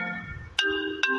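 A mobile phone ringtone plays nearby, a few sustained synthetic tones with two sharp note changes in quick succession, fairly quiet and alone.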